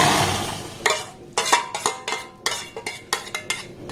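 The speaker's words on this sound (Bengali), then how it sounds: "যে আমটাকে আমি ব্লেন্ড করেছিলাম সেই আমটা এবার কড়ার মধ্যে দিয়ে দেব" A metal spoon scrapes and knocks against a kadai on the stove as blended mango pulp goes in, giving a run of irregular clinks and clatters after a soft initial pour.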